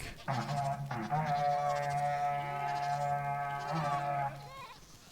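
A Minecraft goat horn playing its 'Seek' call in the video game, a loud wavering bleat-like horn tone held for several seconds after a short opening note, with no talk.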